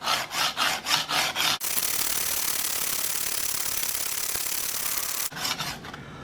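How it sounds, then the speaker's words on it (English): A Tuffhead broadhead's hard steel is sharpened on a 240 grit stone: quick rhythmic rasping strokes, then one long steady grinding rub, then a few more short strokes, close and loud. "240 grit until I get a burr on the back side."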